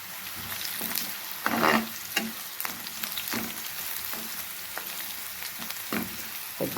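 Dried red chillies and spices frying in hot oil and being stirred in a pan for a spinach and coriander fry: close crackling sizzle broken by scraping stirs, with no talk.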